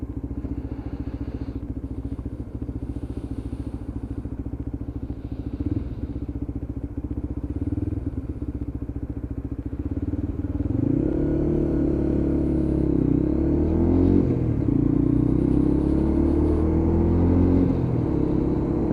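A Lexmoto LXR motorcycle engine drones steadily while riding, then rises in pitch and climbs through revs as the rider shifts gears, loud and close throughout.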